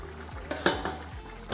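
Boiled mutton being stirred in a pot, a few close scraping strokes of a spoon against the metal with soft clinks and a faint sizzle underneath.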